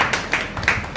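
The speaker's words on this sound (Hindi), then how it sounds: "इनका सोलोमी का हम तालियों के साथ स्वागत करेंगे" A church audience claps to welcome a young woman named Salome forward, sparse claps close by that come in a few uneven bursts across a short second.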